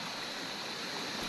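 A waterfall pours into a pool-like basin at Govindpur, Nawada, giving a faint, steady broadband rush of falling water with no voices.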